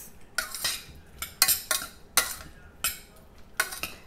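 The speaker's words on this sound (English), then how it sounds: "And I'm just gonna keep on stirring." A spoon scrapes and clinks against a pan while strawberry chia seed jam cooks over a medium flame, sharp stirring strokes repeating every half second or so, close and alone.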